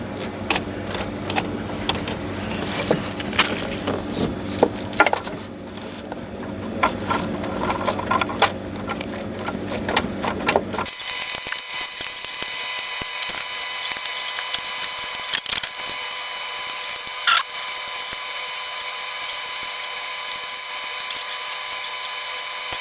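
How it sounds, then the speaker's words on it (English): A ratchet tightens a spark plug back into a 2010 Dodge Grand Caravan engine, making close, fast clicking and scraping that shifts to a thinner, brighter texture midway. No one talks. "let's get that spark plug back in there and call it a wrap on that one"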